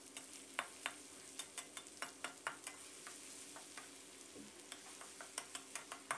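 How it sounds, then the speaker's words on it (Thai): Two tablespoons of coarsely pounded garlic fry in hot oil over low heat. A soft, steady sizzle runs throughout, with regular light clicks of a utensil stirring the pan and no voices. "ขั้นตอนนี้เราใส่กระเทียมโขกหยาบ2ช้อนโต๊ะนะครับลงไปเจียวให้สุกเหลืองกรอบเลยนะครับ"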